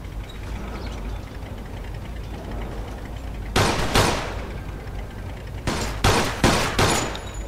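Gunfire in the video game Mafia II: a steady background din, then a loud burst of shots around the middle and a rapid string of four or five sharp reports near the end.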